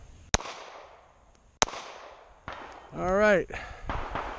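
Two sharp Glock 43 pistol shots crack out about a second apart with decaying echo, and a voice speaks briefly afterward.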